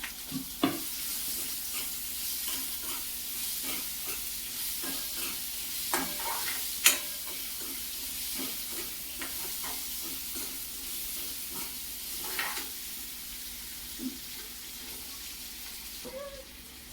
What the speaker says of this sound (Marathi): स्वीट कॉर्न हे आपल्याला थोडेसे परतून घ्यायचे